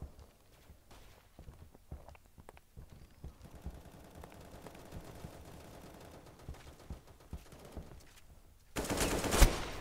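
Video game gunfire, with scattered rapid shots and footsteps through a multiplayer match, ending in a loud, dense burst of sustained firing.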